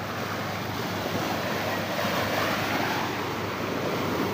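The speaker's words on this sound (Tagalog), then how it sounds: "Hindi naman siya lumakay ang alon." Ocean waves wash steadily onto a shore, a continuous broadband roar of surf mixed with gusting wind buffeting the microphone, with no distinct breaks between swells.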